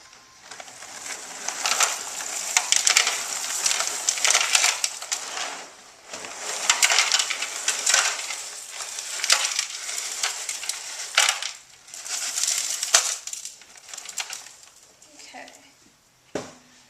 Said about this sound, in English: you want to start adding the cereal